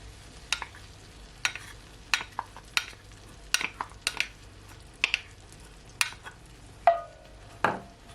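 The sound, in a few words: stirring hot sauce into melted butter in pan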